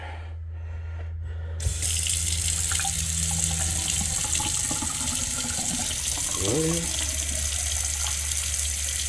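Tap water runs into a slow-draining kitchen sink that has an unvented S-trap. After a short quiet start it switches on abruptly into a steady, close splashing rush, with a brief voice.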